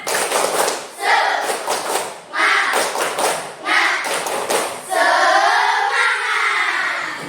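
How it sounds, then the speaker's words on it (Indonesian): An Indonesian school class performs tepuk semangat, a rhythmic clapping cheer, in bursts of loud patterned claps with children's voices chanting along, ending in a sustained shout. "yuk kita tepuk semangat dulu yuk"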